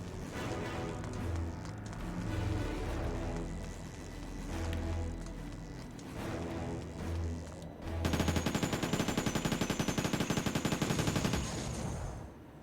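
Rapid automatic gunfire in the Terminator video game, preceded by heavy rumbling action and bass, then a sustained, loud burst of rattling shots for several seconds before it cuts off.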